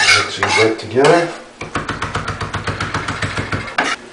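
Chopped vegetables and fresh herbs get tossed together in a bowl for ratatouille, a quick run of rhythmic scraping clatters following a moment of a voice talking.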